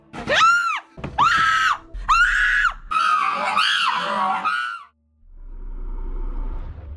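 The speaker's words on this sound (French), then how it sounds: "nos oreilles se souviendront de ces cris" A woman's shrill, piercing screams in an allegedly haunted location, four long loud wails in close succession, followed by a low rumbling hum and murmur after a brief silence.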